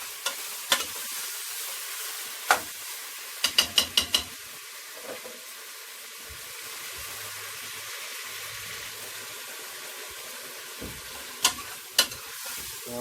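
A utensil scrapes and clicks against a pot in scattered taps while turkey neck stir-fries and sizzles quietly underneath at an outdoor cooking spot; no one speaks.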